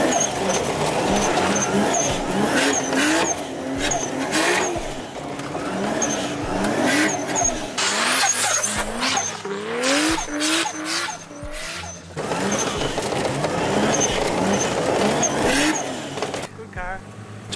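A car drifting and skidding on a frozen lake in Sweden, engine revving and rising and falling in pitch through repeated slides, with tire and ice noise close by and people talking inside the car throughout.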